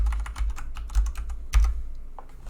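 Quick bursts of keystrokes on a computer keyboard while a sudo password is entered during Ubuntu server setup, several close clicks in uneven clusters with short pauses.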